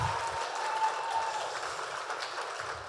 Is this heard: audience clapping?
yes